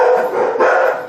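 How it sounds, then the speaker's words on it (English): Puppies bark indoors, loud and close, a couple of overlapping yappy barks in quick succession. "My puppies are barking and ruining the shot"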